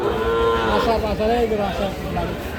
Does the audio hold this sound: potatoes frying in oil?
no